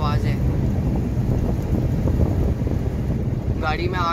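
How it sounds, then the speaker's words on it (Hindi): Strong windstorm wind buffeting a car near Hazro with light rain drops, a loud continuous low roar throughout, with a brief voice near the end. "ये हवा की आवाज है।"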